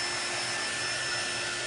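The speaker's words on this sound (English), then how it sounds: "This is a drying tool." A handheld drying tool blowing air on a low, cool setting to dry chalk, a steady, close whirring rush with a constant high whine throughout.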